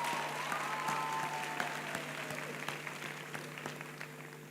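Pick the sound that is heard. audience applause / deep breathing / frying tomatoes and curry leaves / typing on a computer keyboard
audience applause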